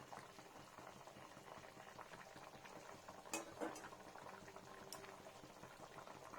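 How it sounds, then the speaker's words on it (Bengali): Green jackfruit curry bubbles at a steady simmer in a pan over a medium gas flame, a soft continuous gurgle with a couple of faint utensil clinks partway through. "দেখুন ফ্রেন্ডস ফুটছে কি সুন্দর"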